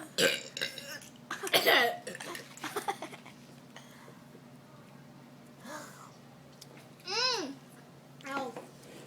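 Burps from people chugging Pepsi in a burp contest: a loud cluster of burps and chatter early, then quieter spaced burps with voices and laughter in between.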